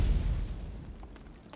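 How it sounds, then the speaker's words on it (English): A tank cannon shot fired in World of Tanks, heard as one deep, booming blast that fades over about a second, with no other sound. "I'm just going to come put a shot into this Sheridan"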